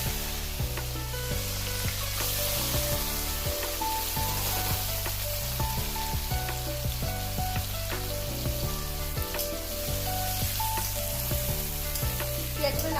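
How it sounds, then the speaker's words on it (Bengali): Sliced onions dropped into hot oil in a pan sizzle and crackle continuously, loud and close, with a steady frying hiss and occasional stirring, no voices heard. "পেঁয়াজগুলো ছাড়ছি।"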